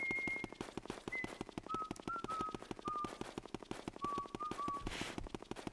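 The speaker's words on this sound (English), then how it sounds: "I never get tired of Luigi whistling his own theme song" Luigi whistles his own theme song in the Luigi's Mansion video game, a clear tune of short held notes over a steady rhythmic game soundtrack.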